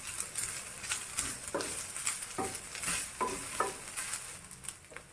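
Shallots, curry leaves and grated coconut frying in a pan for Kerala erissery, a continuous crackling sizzle with several soft scraping stirs of a spoon, close and fairly loud, no voices.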